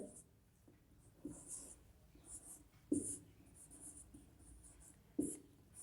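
Chalk or marker writes on a classroom board in short scratchy strokes with a few sharper taps, fairly faint and close, with soft breathing between strokes.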